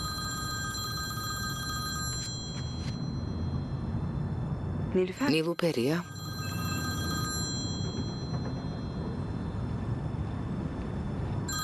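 A telephone rings with a call from Rome, its tones steady at first, then breaking off midway as a voice speaks briefly over a low background hum before the ringing continues.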